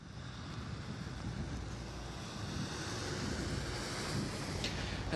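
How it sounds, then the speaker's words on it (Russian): Strong wind and rain roar outdoors in Krasnoyarsk during an evening news report, a steady broadband rush that stays even and unbroken with no voices. "Пошел дождь и сильный ветер, который, кстати, продолжается уже весь вечер."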